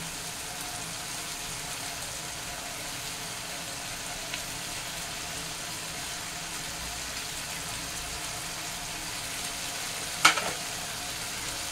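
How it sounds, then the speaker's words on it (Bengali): Mustard paste being stirred into a Malabar spinach curry in a pan, a steady soft sizzle throughout with a sharp scrape or clink near the end. "এবার এটাকে ভালো করে নেড়ে চেড়ে সর্ষেটাকে সব জায়গায় মিশিয়ে দিচ্ছি।"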